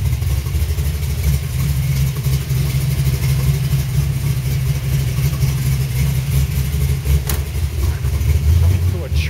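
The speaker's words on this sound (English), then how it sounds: "Crank right up." A car engine with a changed carburetor cranks up and keeps running with a loud, steady low rumble close by, rising slightly near the end.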